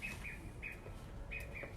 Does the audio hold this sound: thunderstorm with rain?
no